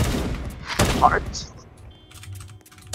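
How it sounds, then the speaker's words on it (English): Gunfire in the Roblox game Da Hood: a few sharp shots crack in the first second, then fade into a quieter stretch with faint clicks and low hum. "Bro, I just got shot in the back."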